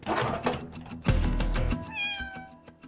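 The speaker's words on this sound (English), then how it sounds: "It's a cat!" A cat in the Sand Land video game meows a few times, close and clear, with a drawn-out call and a shorter follow-up.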